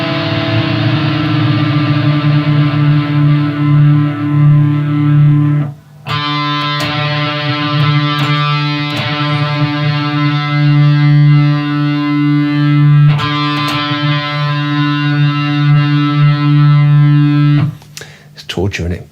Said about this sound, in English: So when you're tuning, you don't play the strings one at a time, you play 2 together.